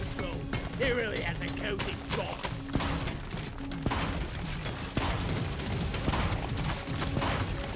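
Rapid bursts of gunfire from drones in the video game Deep Rock Galactic: Survivor crackle continuously amid a dense, noisy mix of mechanical sounds and impacts, with voices underneath.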